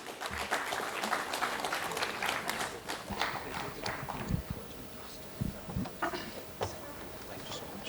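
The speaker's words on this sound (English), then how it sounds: "Can we have a big round of applause?" Scattered, uneven clapping from a conference audience greets presenters coming on stage for a product demo, with individual claps and thumps standing out and a voice briefly heard amid the applause.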